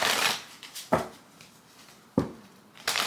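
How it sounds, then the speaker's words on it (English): Tarot cards are shuffled by hand close up in bursts of riffling and slapping, with short pauses between, and no voices. "So let me do another shuffle."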